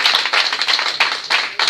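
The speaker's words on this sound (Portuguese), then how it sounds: "Pode aplaudir o Senhor Jesus." A church congregation claps for Jesus in a dense, loud burst of applause from many hands, steady and close, with a couple of brief dips in the middle.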